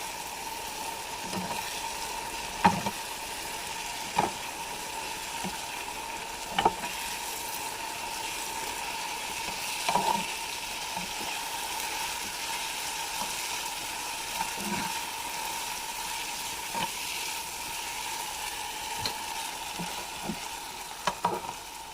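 Noodles fry in a pan with a steady hiss, while a utensil stirs them and scrapes the pan in soft, irregular taps. The sizzle stays quiet and continuous throughout, with no one speaking.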